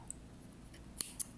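Scissors snipping cotton yarn while finishing a crocheted flower keyring, with a couple of sharp, close clicks near the end of an otherwise quiet moment.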